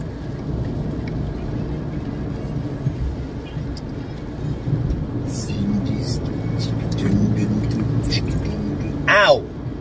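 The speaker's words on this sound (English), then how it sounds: "I'm driving, you know." A car's engine and road noise form a steady, continuous rumble throughout. People talk briefly in the cabin near the end.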